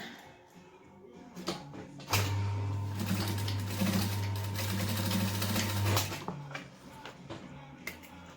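A sewing machine stitches down a bag strap in one steady burst of rapid, even needle clatter lasting about four seconds, close and moderately loud, with quieter handling sounds before and after.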